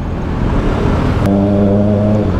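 Kawasaki ZX6R motorcycle, a 2024 model with a new aftermarket exhaust, idling up close with a loud, steady low rumble that settles into an even, humming tone.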